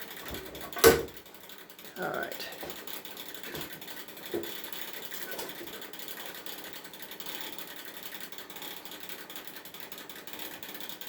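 Clamp tightening tool ratcheting on a clamp during work on a 2008 Pontiac G6, faint close clicking ratchet sounds in short runs with a louder click early on, a brief spoken remark.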